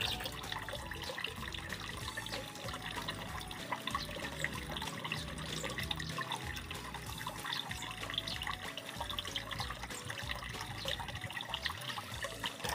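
Steady running water from a hand-operated faucet during hand washing in a skills lab, a continuous, fairly faint splashing flow with no speech.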